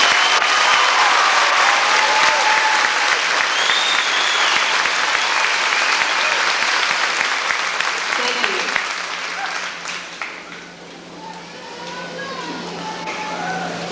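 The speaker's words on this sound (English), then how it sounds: "Let's give them a round of applause" A high school graduation audience applauding scholarship recipients, dense sustained clapping from a large crowd that gradually dies down, with voices murmuring as it tapers.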